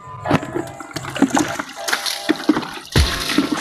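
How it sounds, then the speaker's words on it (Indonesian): Water from a hose spraying and splashing onto a car in uneven bursts, fairly close, with intermittent sputtering as the stream hits the car's surface. "Oke, langsung kita siram."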